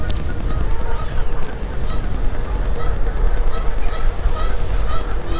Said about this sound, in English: I think we can hear some geese